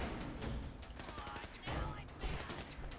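An advanced Gatling laser fires in a video game, a quiet, rapid crackling burst of repeated shots under a busy game mix with voices.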